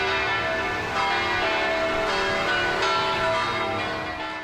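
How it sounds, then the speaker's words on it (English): A polished bronze bell rings with a sustained, shimmering metallic tone that hangs on and slowly decays, loud and alone, with faint renewed swells as it keeps sounding. "the bell looks as beautiful as it sounds"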